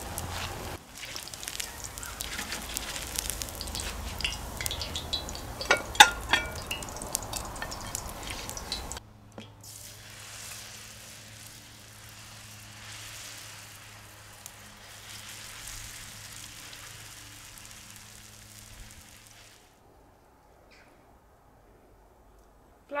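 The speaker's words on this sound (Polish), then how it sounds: "Placki również bardzo pięknie się smażą, nie przywierają do patelni, patelnia jest żeliwna" Potato pancakes sizzle and crackle in oil in a cast-iron frying pan, with sharp spattering pops at first, then a softer, steady hiss over a low hum toward the end.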